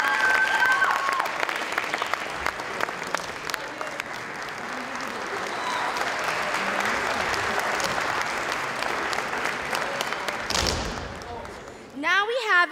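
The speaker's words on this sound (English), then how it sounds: "big round of applause, please." Audience applause at a school art and language festival, loud and sustained for about eleven seconds, with crowd voices mixed in, then fading out as a voice begins.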